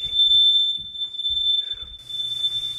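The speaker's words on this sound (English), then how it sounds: "Why is the fire alarm going off?" A kitchen smoke alarm sounds a continuous shrill beep triggered by cooking, loud and close, with a few low voices underneath.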